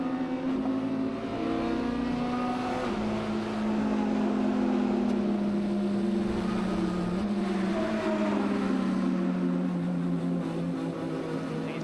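GT race car at speed on the Sepang circuit, heard from onboard, its engine droning loud and steady with pitch rising and falling through gear changes and throttle lifts, no voices.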